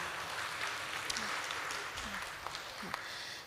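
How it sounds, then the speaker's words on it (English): A partnership forum audience claps for two speakers. The applause is faint and distant, a soft, even wash of hands with a few murmured voices beneath it. "let's give our big applause to both of our speakers today"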